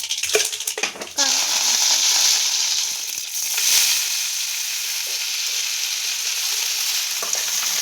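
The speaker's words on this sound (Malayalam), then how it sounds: "ചീനച്ചട്ടി അടുപ്പത്ത് വെച്ച് ഓയിൽ വെച്ച് കടുകിട്ട്" Mustard seeds sizzling and crackling in hot oil in a wok on the stove, a loud continuous hiss following a few brief handling knocks at the start.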